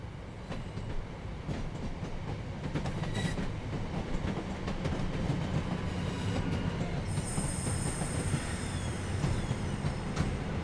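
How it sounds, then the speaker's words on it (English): A train on the Birmingham Cross City Line rumbles across a main-line junction, with rhythmic wheel clatter and a rising high-pitched wheel squeal near the end, steady and fairly close with no talk. "So we've got our train just coming across the junction on the main line just up here."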